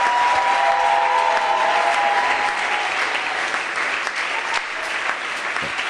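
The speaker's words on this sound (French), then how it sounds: "Acclame très fort ton Sauveur." A church congregation claps and cheers in sustained acclamation, a thick, even wash of applause from a large crowd that stays loud throughout.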